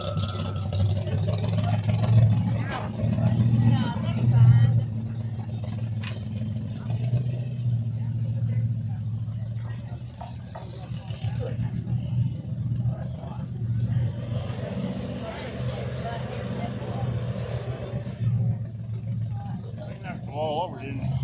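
A pulling tractor's engine drones steadily at a county fairgrounds tractor pull, rising and falling as it works down the track, heard at some distance beneath an announcer's ongoing commentary and crowd noise.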